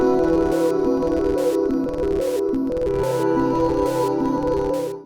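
Guitar run through a Beetronics Seabee effects pedal, chopping a chord sequence into rhythmic repeating stabs with bright bursts on each beat, loud and continuous, no talking.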